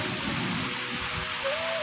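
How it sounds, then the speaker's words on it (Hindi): Heavy rain falls at the Vaishno Devi shrine in the mountains, a dense, steady hiss of drops hitting surfaces close by that fills the whole moment evenly. "बारिश हो रही है।"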